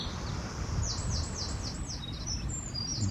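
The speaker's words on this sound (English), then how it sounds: "You probably hear all the birds giving us a song." Birds calling among the trees of a forest park, a quick run of repeated high chirping notes over steady low background rumble, moderately faint and distant.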